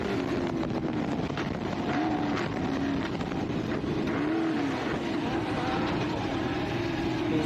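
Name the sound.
race car engine in desert off-road race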